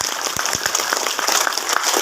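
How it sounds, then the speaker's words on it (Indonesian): Brief burst of audience clapping at a regional candidate's campaign event in Indonesia, a dense patter of hands with a few sharper individual claps standing out. "Tepuk tangan dulu."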